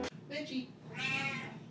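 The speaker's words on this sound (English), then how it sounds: "Can Chad hear Menchie meowing?" Menchie, a female house cat, gives a couple of soft, drawn-out meows, quiet and fairly close in a calm room.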